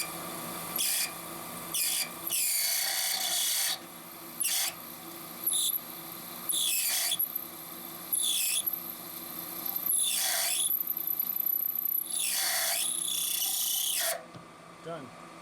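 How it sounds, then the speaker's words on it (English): An end mill cutting straight through a metal part on a lathe, giving loud high-pitched screeching and rasping bursts that start and stop repeatedly over a steady machine hum, close by and with no talk. "now with the end mill, and we're just going to go straight through."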